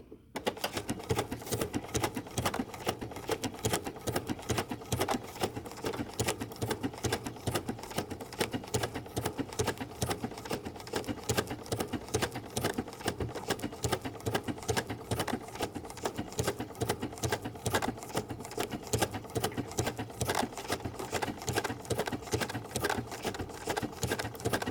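A sewing machine stitches a wool applique block with a fast, even mechanical chatter of needle strokes, running continuously and close after a brief start.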